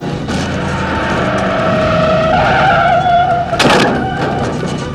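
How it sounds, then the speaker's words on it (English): A car brakes hard and skids in a scene from the 1988 horror film Halloween 4, a loud sustained tire screech over engine rumble, ending in a sharp thump near the end. "manages to hit the fucking brakes and send his ass flying"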